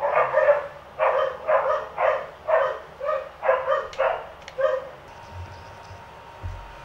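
Dogs bark in a steady run of about a dozen loud, close barks, then fall quiet apart from faint background noise.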